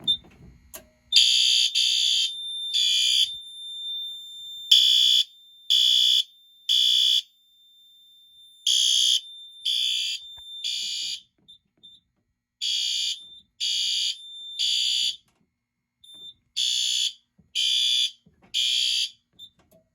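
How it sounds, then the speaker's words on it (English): A fire alarm system sounds a general alarm during a test, emitting loud, piercing electronic beeps in groups of three separated by short pauses, a repeating temporal pattern that continues steadily with no talk. "Now, we're going to generate the alarm by hitting enter, and you will see the LEDs illuminate."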